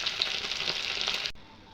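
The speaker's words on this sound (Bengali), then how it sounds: "এই যে এখন পনির ভাজা হয়ে গেছে আমার লাল লাল করে" Paneer pieces fry in a pan of oil, a close, steady sizzle that cuts off abruptly near the end, leaving only a faint background hum.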